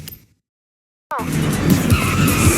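Loud, continuous tire squeal and skidding as a car drifts in Forza Horizon 6, the screech rising abruptly after a brief silence and sustaining under a revving engine.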